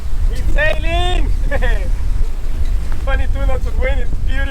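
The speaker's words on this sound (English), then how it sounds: "22 knots of wind, it's beautiful." Steady, loud wind roars across a sailboat under sail in 22 knots of wind, a dense rushing noise that runs the whole time, with voices talking over it.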